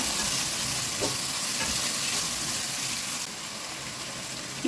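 Steady sizzling of onion frying in a pan for goulash, with faint scraping as it is stirred after salt and black pepper are added; a continuous crackling hiss without talk.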